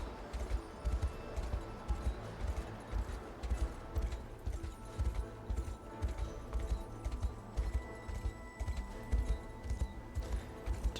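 A horse gallops in the video game Unicorn Overlord, its rhythmic low hoofbeats pounding steadily with no talking over them.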